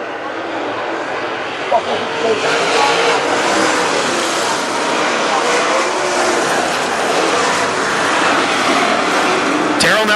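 WISSOTA late model race cars roar around Granite City Speedway in a heat race, a loud, continuous engine drone with passing surges under a track announcer's commentary.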